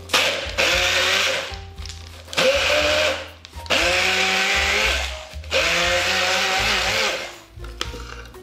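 A blender whizzes pine nuts and oil for pesto genovese in four loud, close pulses of a couple of seconds each, with the motor rising and falling between short pauses.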